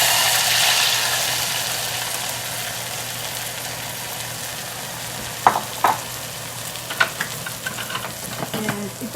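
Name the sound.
barberries sizzling in hot butter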